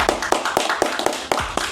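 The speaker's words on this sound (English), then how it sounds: "On the count of three, I need everybody to clap it up for Roy Jones Jr." Audience in a room clapping for boxer Roy Jones Jr., a burst of scattered, fairly close hand claps with uneven rhythm lasting under two seconds, no talking over it.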